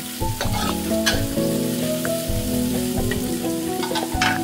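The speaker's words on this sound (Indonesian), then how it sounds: "sama cabenya kita tumis sampai harum, sampai matang" Chili sizzling in a pan while being sautéed for tempe oreg with long beans, a loud, close, steady frying crackle broken by frequent spatula scrapes and clinks against the pan, no speech.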